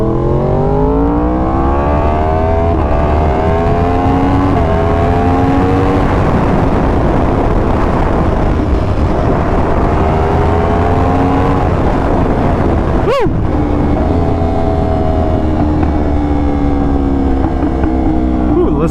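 A motorcycle engine drones loudly and steadily under the rider, pitch rising and falling through gear changes, with a sharp exhaust pop cutting through near the end.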